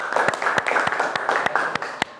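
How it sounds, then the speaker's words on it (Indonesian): Classroom applause for a student, a steady patter of many hands clapping with sharper individual claps standing out, continuous and moderately loud throughout. "Ya, tepuk tangan buat teman kita."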